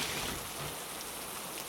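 Steady rain falling on surfaces nearby, a continuous even hiss with no other sounds.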